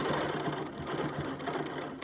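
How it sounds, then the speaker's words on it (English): A Q20 sit-down quilting machine runs steadily and close while free-motion outline stitching a practice quilt sandwich panel, its needle hammering at a fast, even rhythm throughout with no talk. "come right along and just do some outline stitching"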